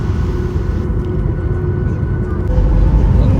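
A steady low engine rumble and hum as an airliner taxis slowly toward the runway, rising slightly toward the end.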